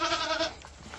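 A goat bleats loudly in a wavering, drawn-out cry for about half a second, followed by quieter farmyard noise.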